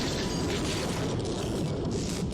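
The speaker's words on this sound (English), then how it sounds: "There's the particle accelerator explosion." A particle accelerator explosion in The Flash TV series comes through as a dense, sustained roaring rumble of blast and debris, loud and unbroken with no speech.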